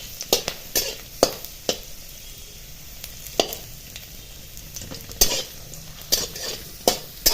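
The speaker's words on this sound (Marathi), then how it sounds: "आता कढईमध्ये मी एक चमचा तेल घालून घेते मसाला भाजण्यासाठी" Ginger pieces and garlic cloves roast in a spoonful of oil in a kadhai, a low sizzle broken by sharp, irregular scrapes and clinks of a spoon stirring against the pan.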